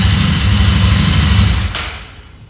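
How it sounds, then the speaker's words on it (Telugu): A Royal Enfield Super Meteor 650 motorcycle idles close by with a deep, steady thumping exhaust beat, then the sound fades down toward the end. "ఎగ్జాస్ట్ నోట్ సూపర్ ఉంది"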